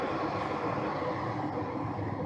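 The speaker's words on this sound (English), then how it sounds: "Oh, here comes a train." A train passing beside the Fraser River, heard as a steady broad rumble and rolling roar, moderately loud and continuous, with no talking.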